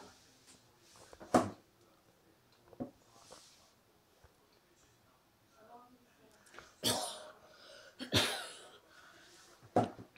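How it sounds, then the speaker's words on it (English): Several separate harsh coughs from a person with a bad cough, sharp bursts spaced irregularly over a quiet room background, one early and a cluster of louder ones toward the end. "I got a bad cough"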